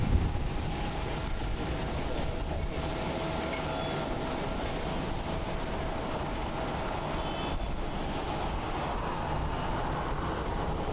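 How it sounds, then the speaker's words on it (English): A 15-year-old Boeing 737-800 airliner taxiing just below at Haneda Airport in Tokyo gives off a steady, moderate engine rumble with a faint high whine, holding an even level throughout. "Taxiing just below us is On the Pond Airways, flight 620, coming in from KOJ. It's a Boeing 737-800"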